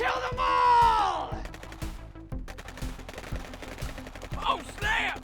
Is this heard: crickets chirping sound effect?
no